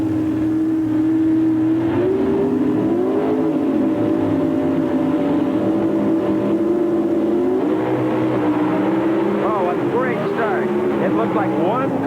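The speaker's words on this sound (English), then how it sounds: "The motors come up." Two Pro Stock drag cars launch side by side at the 1993 NHRA Mid-South Nationals. Their engines make a loud, sustained roar that climbs in pitch through several sweeps, and an announcer may be talking over it.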